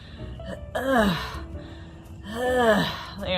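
A person imitates a goat's strained breathing: two drawn-out, groaning gasps with a rasping, laboured quality.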